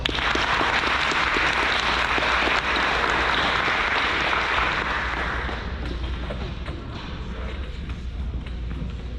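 An audience at a senior awards night claps in a dense, loud round of applause that gradually thins and softens toward the end.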